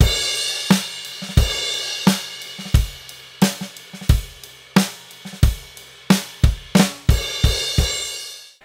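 Drum kit playing the chorus of a song, steady kick and snare hits under washing crash cymbals, loud and close, no voices over the beat.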